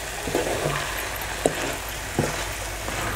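Stuffed brinjal curry (bharli vangi) with milk-based gravy sizzles steadily in a pan while a spoon stirs it, with a few soft scraping knocks over the constant frying hiss.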